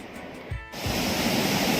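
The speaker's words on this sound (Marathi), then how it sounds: "हे बघा हा समोर धबधबा आहे" Steady broadband rush of a waterfall with a temple built into it, in Maharashtra during the rainy season, heard close and continuous with a brief disturbance early on.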